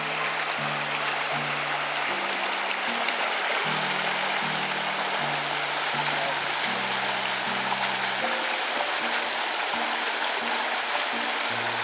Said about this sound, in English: Walking across Goose River wasn't really that bad.